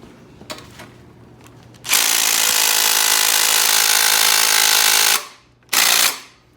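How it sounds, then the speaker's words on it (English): A Makita power tool loosens a bolt during a Nissan Z31 cam swap, giving a loud, sustained rattling impact hammering for about three seconds, then a short second burst after a pause, with no talking. "The Makita loosened it up for it."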